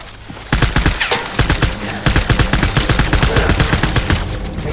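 Dense, rapid gunfire in the Death Stranding video game, loud and close, with bursts of overlapping shots and no pause.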